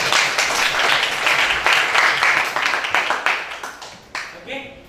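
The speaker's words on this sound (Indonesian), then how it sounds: "Tepuk tangan anak-anak." Schoolchildren in an Islamic studies classroom clap together in a lively, slightly rhythmic burst that thins into a few scattered claps at the end, with voices mixed in.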